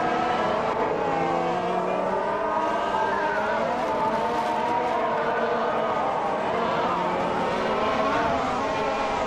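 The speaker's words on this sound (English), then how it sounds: "We're just about to watch some AI cars race against each other" AI-driven race cars roar around a circuit in a continuous, loud stream of high-revving engine noise with shifting pitches as several cars compete closely, with no break in the sound.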